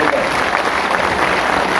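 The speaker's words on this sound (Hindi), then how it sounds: "आप सबके लिए जोरदार ताली बजा दीजिए" Applause from an audience at an All India SC/ST Railway Employees Association convention, a dense steady clapping that fills the short stretch at close range with no pauses.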